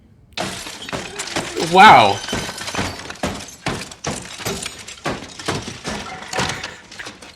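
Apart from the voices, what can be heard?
puzzle box smashed with hammer in movie Glass Onion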